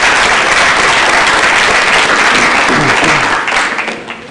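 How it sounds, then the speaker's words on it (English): Loud, dense applause from an audience welcoming a guest at a live psychotherapy demonstration, steady throughout and tapering slightly at the end, with a few faint voices underneath. "I want to welcome him with an applause"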